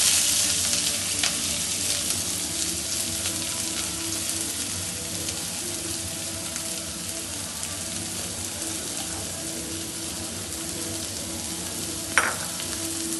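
Chopped onion, ginger, garlic and green chili fry in hot oil for egg bhurji, a steady, loud, close sizzle that holds throughout, with one brief scrape near the end.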